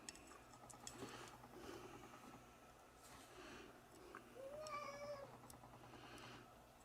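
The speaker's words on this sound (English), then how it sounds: "everyone can hear how much of a whiny cat you are" A whiny house cat meows faintly with drawn-out, complaining cries, the clearest one rising and falling near the end over a quiet indoor background.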